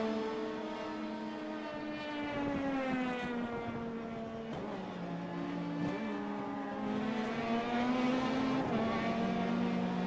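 A Formula Renault race car screams along a circuit, its engine note climbing and dropping through gear changes and passing by at close range, loud with no talk.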